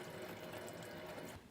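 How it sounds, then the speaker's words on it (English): Cold tap water at moderate flow rushes steadily through an Enagic Kangen SD501 water machine during its flush, a dense even hiss that drops off slightly at the end. "I'm going to just do a cold water and moderate flow."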